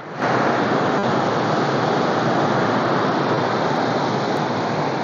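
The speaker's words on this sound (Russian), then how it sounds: "Вот под этим бы водопадиком я полежал бы." A small waterfall beside a river near the village of Lenevka gives a steady, close, loud rush of falling water, continuous and even from start to finish, with no voices.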